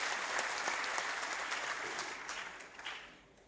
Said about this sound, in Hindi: एक बार विश्वेंद्र जी के लिए जोरदार ताली बजाइए।